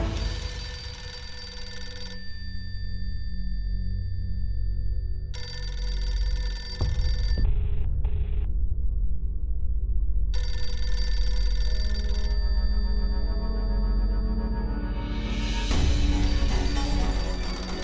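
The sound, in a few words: telephone ringing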